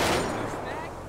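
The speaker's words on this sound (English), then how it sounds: "My partner's shooting." A burst of gunfire in GTA 5, a single sharp crack with a short decaying tail, loud and close.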